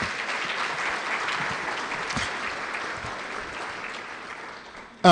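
Steady, sustained applause from an audience at a Salute to Success event honoring Dr. Lane, a continuous wash of clapping that eases slightly before a voice starts at the very end.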